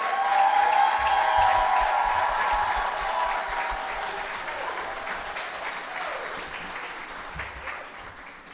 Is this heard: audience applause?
yes